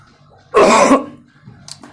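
A single loud, harsh cough bursts out near the microphone, followed by a faint throat sound in an otherwise quiet room.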